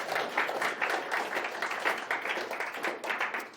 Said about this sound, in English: I will pause if you'd like to clap for that